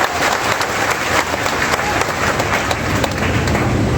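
Sustained applause from a crowd at a Bhil community gathering, steady and dense clapping filling the space throughout with faint voices mixed in.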